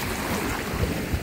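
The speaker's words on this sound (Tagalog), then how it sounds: "Ang laki ng alon." Large ocean waves surge and wash steadily onto a beach, a dense, continuous rushing roar over the short stretch.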